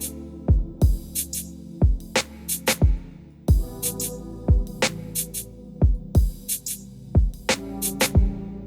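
An old school R&B drum pattern with a small plate reverb, deep punchy kicks and bright snare and hat hits looping in a steady, laid-back groove, loud and alone.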